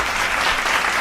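One person claps rapidly and loudly at close range, a dense burst of hand claps filling the whole second.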